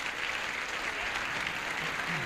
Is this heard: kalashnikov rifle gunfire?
no